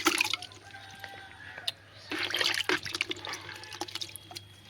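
Wild chhatu mushrooms being washed by hand in a bucket of water, with close splashing, dripping and sloshing in irregular bursts and no talk.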